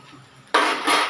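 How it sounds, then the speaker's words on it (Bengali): A metal lid lands on a pan with a sharp clank while an egg roll cooks, a single loud contact followed by a brief ringing rattle in a quiet kitchen. "একটু ঢাকা দিয়ে দিলাম"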